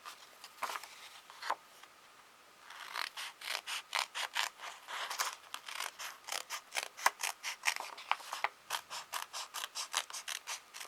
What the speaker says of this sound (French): Je découpe, j'espère que ça se coupe bien.